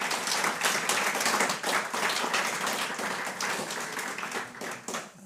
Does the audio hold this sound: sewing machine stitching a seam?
no